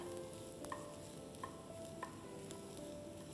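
Onion and fresh coconut stir-fried in oil for Kolhapuri sukha mutton give a steady close sizzle, with a few light spatula scrapes against the pan.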